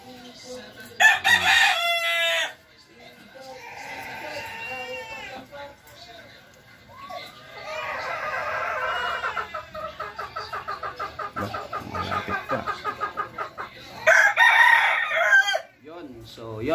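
Brooding hens cluck and a rooster crows loudly and nearby in a farmyard, with bursts of crowing at the start and end and quicker clucking rhythms in between.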